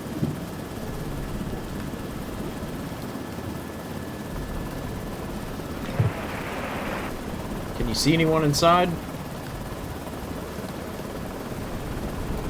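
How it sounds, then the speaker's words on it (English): Helicopter flying through a storm in the video game Lazaret, a continuous droning rotor and engine rumble beneath a man's brief speech, with a short burst of higher sound midway. "There's nowhere to put the helicopter down."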